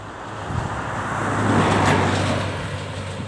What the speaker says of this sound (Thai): มีรถยนต์วิ่งผ่านอยู่ตลอดนะครับ